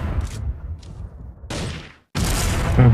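AWM sniper rifle firing in the mobile shooter Bullet Angel, with a couple of loud, sharp reports separated by quieter moments, the last blast followed by sustained ringing game noise.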